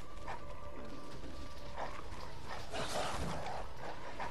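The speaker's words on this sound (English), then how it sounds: "There's dogs everywhere!" Dogs barking in the video game Bloodborne, several scattered barks and yips over a constant hum of game ambience, fairly faint and distant, with no talking.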